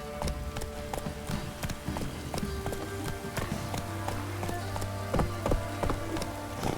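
Roach, Geralt's horse in The Witcher 3: Wild Hunt on PS5, trotting with steady rhythmic hoof clip-clops, mixed with pattering rain and a faint low ambient hum.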